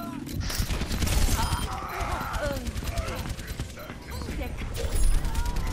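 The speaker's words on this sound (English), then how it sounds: "Gunfire behind you." Rapid gunfire bursts in a video game, mixed with hoofbeats and other game sounds, continuous and fairly dense across the clip under a player's voice.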